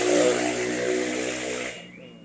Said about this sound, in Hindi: मोटरसाइकिल जो 2 पहिया है उसकी आवाज़ में से साइलेंसर निकाल कर कुछ और चीज़ें फिट करवाई जा रही है